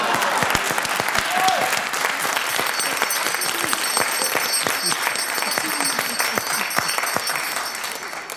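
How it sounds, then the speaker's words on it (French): A studio audience at a French televised satirical mock-trial breaks into loud, dense applause, a continuous crackle of many hands with a few sharper claps standing out, lasting several seconds. "je vous demande de l'applaudir pour ça"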